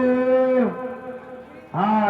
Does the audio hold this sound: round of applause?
no